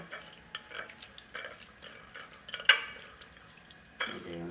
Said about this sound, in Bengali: এখন আমি লবণ, হালকা একটু লবণ দিয়ে চিংড়ির মাছগুলা একটু মেখে নেব